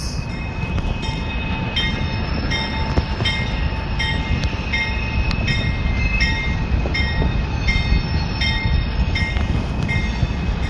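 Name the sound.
freight train passing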